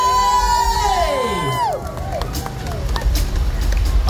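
A concert crowd cheers and shouts loudly for a live metal band, with whoops and excited voices rising over continuous noise, close and energetic.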